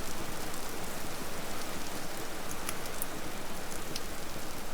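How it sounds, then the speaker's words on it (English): Steady rain falls in the survival video game Vintage Story, a dense, unbroken hiss of drops on surfaces that stays close and even for the whole stretch with no voices. "Has it ever stopped raining in this stupid place?"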